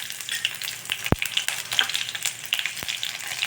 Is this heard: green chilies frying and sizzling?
yes